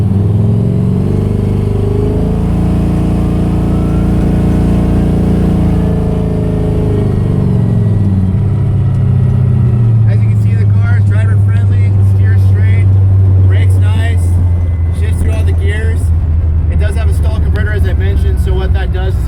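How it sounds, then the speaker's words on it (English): A 1956 Chevy pro street car with a big stall converter launches and pulls away, its deep engine roaring loud and close as the revs climb and settle into a strong rumbling drive. "Apply the foot to the pedal, bring it down into drive, and we can go ahead and launch."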